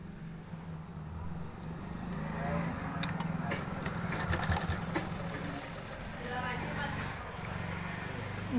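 Sewing machine stitching blouse pieces from the top side, a steady rapid mechanical rattle that runs continuously at moderate level, with a voice talking over it.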